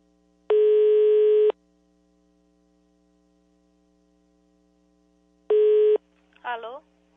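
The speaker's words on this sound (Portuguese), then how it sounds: "ligar agora pra ver se pega" A telephone ringback tone sounds twice, with a long electronic buzz, a four-second silent gap, then a shorter buzz, followed by a brief voice over a low mains hum.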